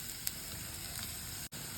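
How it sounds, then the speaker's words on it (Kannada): Chopped onions sizzle in hot oil in a kadai, a steady close hiss that carries on without a break, with a faint stir or two and no talking. "ಒಂದು ಕಡಾಯಿಗೆ ಸ್ವಲ್ಪ ಎಣ್ಣೆ ಹಾಕೊಳ್ಳಿ. ಆಮೇಲೆ ಇದಕ್ಕೆ ಕಟ್ ಮಾಡ್ಕೊಂಡಿರೋ ಈರುಳ್ಳಿ"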